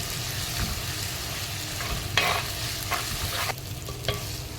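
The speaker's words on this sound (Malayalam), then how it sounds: "പിന്നെ കുറച്ച് പച്ചമുളകും, എന്നിട്ട് എല്ലാം വഴറ്റി കൊടുക്കും." Garlic paste and green chillies sautéing in a clay pot, a steady sizzle with scraping stirs and a few sharper clatters of the spoon against the pot, close and alone.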